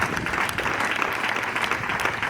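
Students at a school green festival in Jinja clap together in a steady, dense round of applause, close and loud throughout with no pauses.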